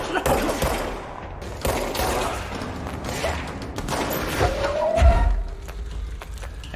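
Video game gunfire crackles in bursts of rapid shots and thuds amid chaotic action sounds, with a heavier boom near the end, all fairly loud throughout.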